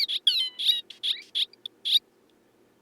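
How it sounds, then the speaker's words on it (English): Sampled bird calls in a soundtrack, a quick series of bright, chirping notes in short bursts over a faint low hum, then a pause before one last chirp at the end. "these are definitely bird samples"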